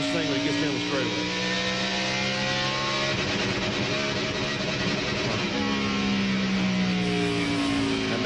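A NASCAR Winston Cup race car at Richmond in 2000 roars steadily with a strained, uneven engine note as its battery dies, under loud continuous commentary and other cars' engine drone.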